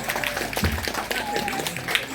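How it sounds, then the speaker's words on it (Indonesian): Applause for a group of children at a memorial prayer gathering, with scattered close hand claps under a voice speaking over them. "Tepuk tangan dulu Pak buat ini teman-teman semuanya ini"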